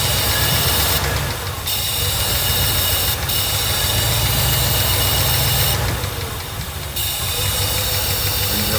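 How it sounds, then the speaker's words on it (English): A Mercedes 380SL engine idles steadily and close by, a continuous low rumble with a faint hiss running on top of it. The tone rises and falls slightly in a few places. "It's idling high again."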